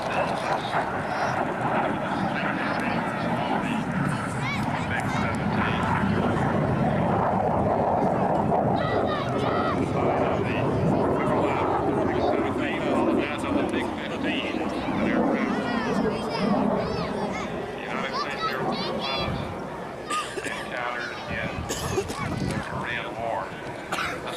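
A MiG-17 jet with an afterburning engine roars at an air show, a broad, rushing engine noise that swells and fades over a long pass, with someone talking throughout.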